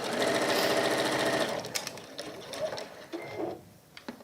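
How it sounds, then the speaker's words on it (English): A sewing machine top stitches down both sides of fabric for a keyring bag charm. It runs loud and steady for about a second and a half, then breaks into shorter, quieter bursts of stitching with small clicks. "So we are going to top stitch down both sides here, and then we'll baste that in place."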